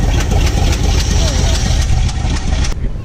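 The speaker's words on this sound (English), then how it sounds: "Definitely an exhaust leak on that side." A 1970 GMC 1500 truck with an exhaust leak runs at idle, a loud, steady low rumble with rapid pulsing puffs throughout, close by, with voices faintly in the background.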